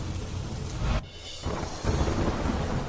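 Monsoon rain falls in Gujarat as a steady rushing hiss with low rumbling underneath. It dips briefly after the first second, then returns at full strength, with no voices present.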